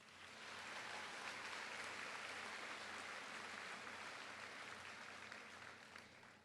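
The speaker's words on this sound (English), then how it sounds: "One more round of applause for our Wind Symphony." An audience claps for a wind symphony at a Veterans Day school assembly. The applause is dense and sustained for several seconds at a faint, distant level, then it slowly tapers.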